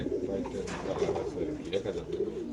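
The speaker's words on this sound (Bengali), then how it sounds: "একটা রেসার কবুতর, দুই পাশে পশম" Racer pigeon cooing in a bird market, low throaty coos repeating under steady crowd chatter and background voices.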